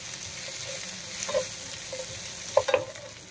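Garlic, ginger, a green chili, cashew pieces and melon seeds stir-fry in a pan with a steady soft sizzle, broken by a few sharp clinks and scrapes of a spoon against the pan.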